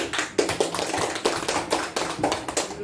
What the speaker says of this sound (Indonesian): Tepuk tangan untuk Bapak Ibu.